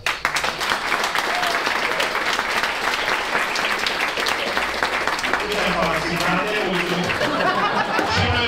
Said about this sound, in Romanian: vă rugăm să aplaudați.